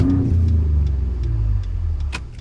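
A 2020 Ford Raptor fitted with upgraded Garrett turbochargers and intercooler pulls away in a 0 to 60 run, a loud, close low engine drone rising then easing, with a few faint clicks over it.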